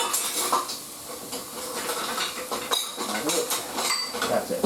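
Metal utensils clatter and clink as a slotted spoon is pulled from a dishwasher in a kitchen, a busy run of close clanks and rattles against a faint hiss of steam.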